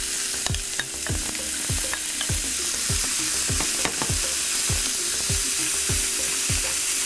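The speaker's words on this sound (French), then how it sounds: "Donc la cuisson de nos lardons, dans une poêle bien chaude, verser les lardons" Lardons frying in a very hot pan: a steady, loud crackling sizzle with sharp spitting pops and repeated scraping taps of a utensil stirring, no voices.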